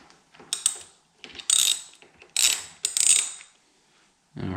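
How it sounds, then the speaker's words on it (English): A ratchet wrench backs out the bottom bolts on the handlebar riser and steering stem brace of a Can-Am Renegade ATV. Four close, clicking bursts of ratcheting are separated by short pauses. "go ahead and finish getting these bottom bolts out"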